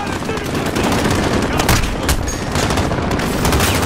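Loud, continuous barrage of booming cannon and gunfire blasts from a battle in Call of Duty: Modern Warfare, rapid and overlapping with no pause.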